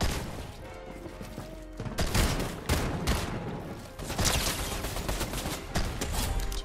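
Video game gun jammed into continuous fire, a dense, loud stream of rapid gunshots with sharp bursts and crashes running throughout, with no talking over it.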